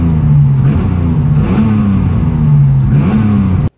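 A BMW E30 fitted with a turbocharged M52 engine, sharp in throttle response, revs up and falls back in two loud, close blips with no one talking, then cuts off abruptly.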